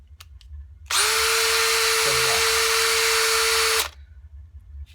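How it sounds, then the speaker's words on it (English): Power drill driving a Robertson head screw, a loud steady whine lasting about three seconds between short quiet gaps, with a faint low thump partway through. "So you have it on your drill, you're trying to get it started."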